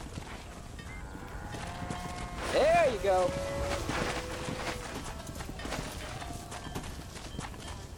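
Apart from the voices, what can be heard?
horse hooves clip-clopping in video game Red Dead Redemption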